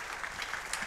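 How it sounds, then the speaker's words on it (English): Audience applause at a Leander Lions football event, a dense crackle of clapping through the short moment with no talk over it. "So if you could applaud for that."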